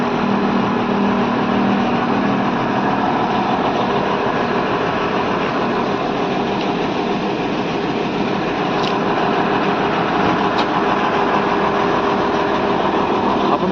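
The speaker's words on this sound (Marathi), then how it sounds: "बाजूला वरती 2 वॉल्वोची मशीन चालू आहेत" Two Volvo bus engines run side by side, making a loud, steady, unbroken drone with a dense rumble and no pauses or talk.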